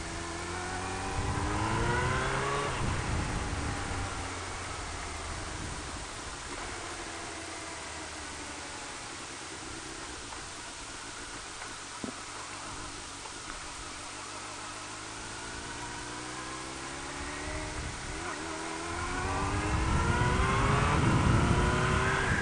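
A modified Suzuki Hayabusa motorcycle engine runs steadily nearby, swelling into louder revs at the start and again toward the end, with a lower idle-like drone between them.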